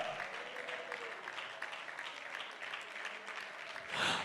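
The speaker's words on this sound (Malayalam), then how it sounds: "കൈയടിക്കാമെങ്കിൽ നല്ലപോലെ അടിക്കുക" A congregation claps at a church conference communion service, a soft, distant patter of many hands sustained throughout and swelling louder at the very end.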